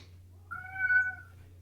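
A cat gives a single drawn-out meow, close and clear, rising and then fading over a steady low mains hum, with no talking.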